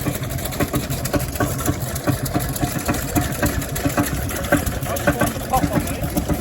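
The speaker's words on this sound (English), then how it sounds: "steamrollers and portable engines." An old portable engine at an outdoor car show chugs with a steady, rapid rhythmic beat, close by and fairly loud, with faint voices mixed into the background.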